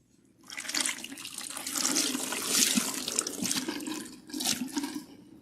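Water from a tap runs steadily, splashing as natural hair is rinsed after a protein treatment, with the splashing swelling and easing over a few seconds; no talk is heard.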